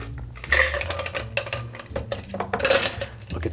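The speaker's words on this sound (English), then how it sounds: "we're gonna fine strain this because we wanna get out the little bits of jalapeno and the cucumber pieces" Cucumber jalapeno margarita fine-strained into a glass, with clinking glassware and metal strainer rattles, a few sharp taps and a steady pour, close and moderately loud.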